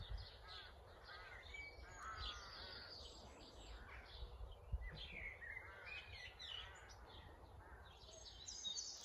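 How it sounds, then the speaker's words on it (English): Crows caw repeatedly outdoors in a smallholding garden at a moderate distance, with other birds chirping in the background over a soft ambient hush. "the crows are singing, the other birds are singing as well"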